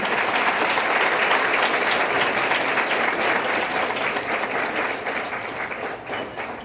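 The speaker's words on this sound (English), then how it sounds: "please give yourselves a big applause for all of your great support that you've given to farm workers." A large audience at a César Chávez celebration applauds steadily and loudly for several seconds, the dense clapping tapering slightly toward the end with no speech over it.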